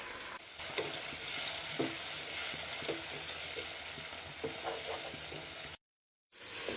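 Onions and tomatoes fry in a pan with a steady sizzle, broken by a few stirring scrapes, then a brief silence before the sizzle comes back near the end.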